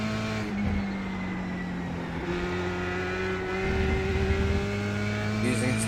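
Race car engine in the iRacing video game at Laguna Seca, a steady droning note that shifts pitch with gear changes and throttle, moderately loud with no talk over it.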